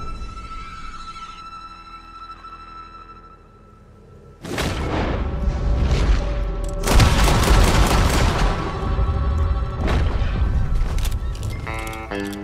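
Gunshots in a Red Dead Redemption 2 duel, loud dense bursts of gunfire and booms crashing in after a quieter stretch and continuing for several seconds.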